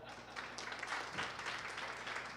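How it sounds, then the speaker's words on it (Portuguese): Faint applause from an expo audience in São Paulo, a soft, continuous patter of many hands heard from a distance. "Palmas para ela."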